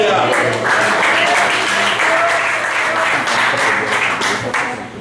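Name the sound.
congregation clapping hands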